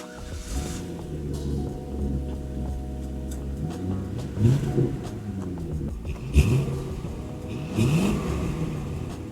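Chevrolet Corvette C5 Convertible engine revs close by, rising in a few separate pulls over a steady idle, with no talk.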